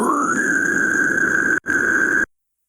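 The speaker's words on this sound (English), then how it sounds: "That's a pretty solid fry scream right there." A vocal fry scream from a metal vocalist, one sustained harsh rasping tone lasting about two seconds, loud and close, with a brief break near the end and no talk over it.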